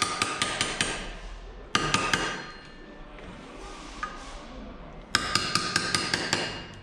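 Metal tools tap and pry at the lock tabs on the rear sprocket nuts of a Bajaj Pulsar NS 200 motorcycle, with rapid bright clinking hammer-like strikes in bursts, close and sharp, with a quieter scraping pause between them.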